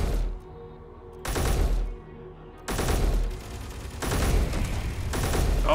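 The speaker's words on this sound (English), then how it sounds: "Let me get the machine gun back out." Machine gun in Space Engineers fires in four long sustained bursts separated by brief pauses, each a dense, loud, rapid rattle with booming low end, close and continuous with no voices.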